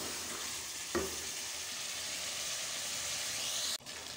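Chicken and onions frying in a pan give a steady, quiet sizzle and hiss, broken by a soft clunk of stirring near the start and a brief knock near the end.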